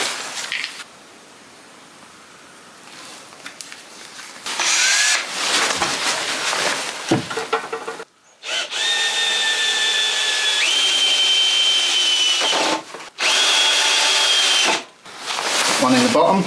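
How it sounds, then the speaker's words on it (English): Power drill driving a greased screw into hard oak during a hearth renovation, with several loud whining bursts of varying pitch separated by short pauses, close up. "pop a bit of grease on the screw, that way I'll ease it in, because these are quite hard to get into oak."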